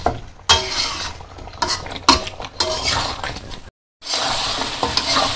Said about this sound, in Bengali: তো মাংস তো আমি ভালো করে কষে নিতেছি।